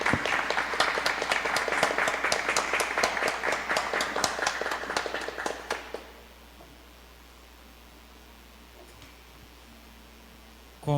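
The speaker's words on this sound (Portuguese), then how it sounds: "E uma salva de palmas para..." Applause from an audience at a municipal council's ordinary session, steady dense clapping for about six seconds that then stops abruptly, leaving a quiet room hum.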